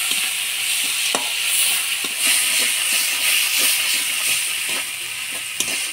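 A paste of ginger, cumin, coriander, chilli, turmeric and salt frying in a pan with a constant loud sizzle, punctuated by regular light taps and scrapes of stirring, close up and free of talk.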